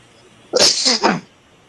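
A single sharp sneeze, close and loud, breaking out of a quiet room in a quick double burst.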